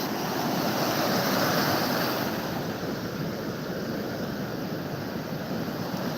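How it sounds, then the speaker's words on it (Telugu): Ocean waves roar continuously on RK Beach in Visakhapatnam, a dense, unbroken wash of surf that swells slightly and then settles. "అలలు అలలు ఎగసి పడుతున్నాయి పాల నురగలు అలల హోరు"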